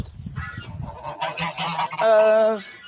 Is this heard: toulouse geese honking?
yes